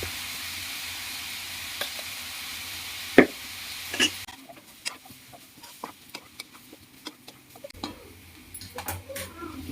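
Vegetables with chili powder sautéing in a pan for dry prawn kulambu, a soft sizzle under scattered stirring scrapes and clicks of a spoon against the pan, close and fairly quiet.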